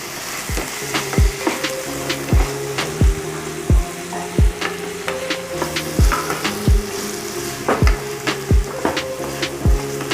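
Tomatoes sizzle and fry in a pan with browned onions, a steady crackle broken by regular sharp clanks of a spatula striking the pan roughly every half second, close and fairly loud, with no talking.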